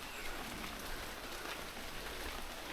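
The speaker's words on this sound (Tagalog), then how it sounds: "Ulan." Rain pouring steadily on a steep mountain trail near Batlag Falls, a dense continuous hiss of drops hitting surfaces, close and even for the whole stretch with no voices.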